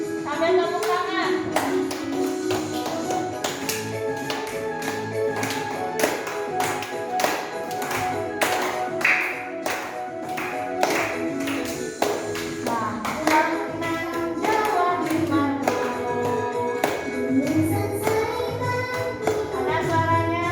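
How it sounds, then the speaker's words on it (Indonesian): Children clap their hands in rhythm while singing together in a classroom lesson, the sharp claps sounding over their voices and melody with steady, close, lively energy. "Sambil tepuk tangan."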